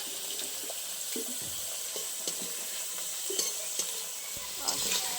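Potatoes frying in mustard oil are turned over in a pan, the steady sizzle broken by scraping and knocking strokes of the utensil.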